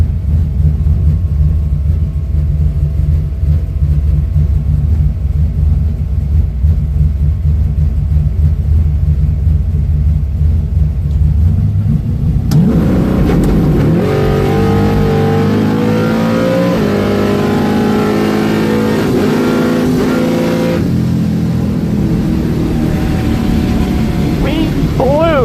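Drag racing bracket car at a $7,000 Friday event launching hard and accelerating down the strip, a deep idle rumble giving way to a loud, roaring rev climbing through gears, heard from inside the car.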